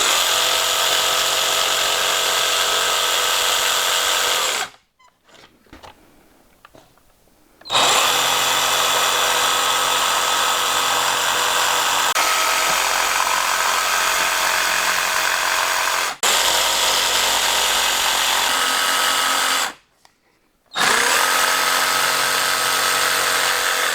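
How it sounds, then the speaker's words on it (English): A jigsaw cuts wood pieces for a DIY track saw guide rail: loud, buzzing reciprocating runs in three long stretches broken by short pauses, close and steady with no talk. "So I'll cut this with the jigsaw."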